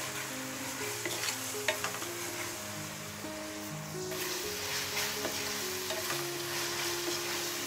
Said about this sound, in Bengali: এখন এই আদা রসুনের পেস্টটাকে পেঁয়াজের সাথে ভালো করে মিক্স করে নিচ্ছি আর 2 মিনিট ভেজে নিচ্ছি সব কিছু